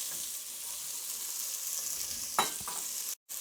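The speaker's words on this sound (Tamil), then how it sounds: "வெங்காயம் போட்டுடலாம்." Onions, with ginger, green and dried chilli and curry leaves, fry in a pan with a steady close sizzle and a couple of scraping stirs, then a brief drop-out near the end.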